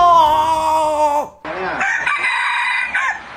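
A rooster crows loudly and close as an inserted sound effect, one long strained cock-a-doodle-doo followed by a second raspy crowing call, standing alone without speech.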